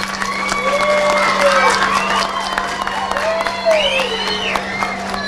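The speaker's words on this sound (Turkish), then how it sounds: "hepinize büyük bir alkış istiyorum." A crowd of families and children at a school report-card day breaks into applause, clapping mixed with excited children's shouts and whoops, lively and sustained over a steady hum.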